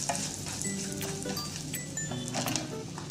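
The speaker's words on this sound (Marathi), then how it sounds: "ते आपण तेलामध्ये परतून घेणार आहोत" Whole spices (black peppercorns, a cinnamon piece, green cardamom pods and cumin seeds) fry in hot oil with a close, continuous crackling sizzle and occasional stirring scrapes.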